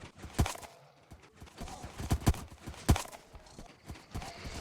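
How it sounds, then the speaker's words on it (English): Horses walking in a vanilla Minecraft survival world, their clip-clop hooves sounding in irregular clusters of sharp taps at close range, with no talk over them. "See all the horses over here."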